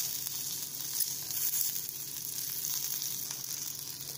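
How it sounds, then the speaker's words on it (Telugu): Stuffed okra (bendakaya) sizzles and fries in a hot pan, a constant crackling hiss with occasional stirring, close up and alone without talk. "ఇందులో మనం స్టఫ్ చేసుకొని వేయించుకున్న బెండకాయలను వేసుకుందాం"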